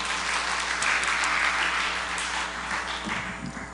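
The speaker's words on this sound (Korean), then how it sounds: "큰 박수로 환영해 주시기 바랍니다." Symposium audience in a hall claps to welcome a presenting professor, a full, even round of applause over a low steady hum, ending with a sharp knock or microphone bump.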